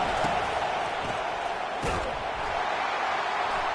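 Stadium crowd noise from the Madden football video game on a third down swells as a constant, loud wash of cheering, with a couple of brief thumps breaking through the roar.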